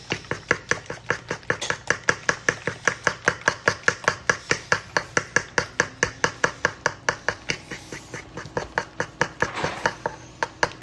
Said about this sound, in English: Let's use a fork, smash the yolks down, whisk them in the well.